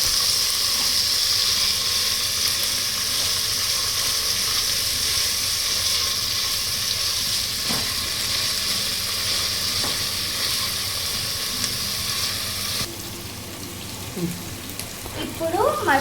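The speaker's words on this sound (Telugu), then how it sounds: "పచ్చిమిరపకాయ, గ్రీన్ పీస్, క్యాప్సికమ్ వేసుకొని మంచిగా ఫ్రై చేసుకోవాలి." Green chili, green peas and capsicum fry in a pan for a mushroom brown basmati pulao, giving a loud, continuous close sizzle, with a little clatter near the end.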